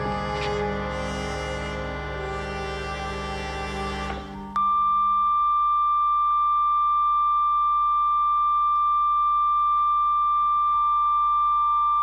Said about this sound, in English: Sounds like my bloody ears with tinnitus. Just higher pitched.